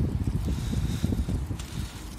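Steady wind buffeting a microphone outdoors, a low rumbling roar that stays constant throughout with no voices.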